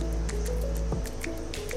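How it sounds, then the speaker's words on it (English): Water is poured into a container holding a grindal worm culture, giving soft drips and squishy wet splashes over a steady low background hum. "so we'll pour some water and"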